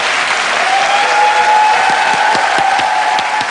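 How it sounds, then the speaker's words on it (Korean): A lecture audience breaks into loud, continuous applause, dense clapping from a large crowd that holds steady throughout. "여러분 큰 박수 보내주십시오"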